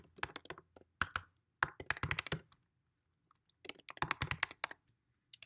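Keyboard typing while editing text in Canva on a computer, heard as quick irregular bursts of close, crisp key clicks with short pauses between runs of keystrokes.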